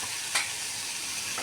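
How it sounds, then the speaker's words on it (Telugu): Fried onions stirred into a sizzling pan for meal maker biryani, giving a steady frying hiss with one quick scrape of the spatula. "ఈ ఫ్రైడ్ ఆనియన్స్ ఉన్నాయి కదా అవి వేసేసుకోవాలి ఇలాగా"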